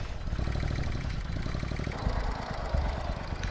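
A twin-turbocharged Triumph Bobber motorcycle engine idling roughly nearby with a steady, lumpy low throb that grows heavier and more uneven partway through, heard alone without voices.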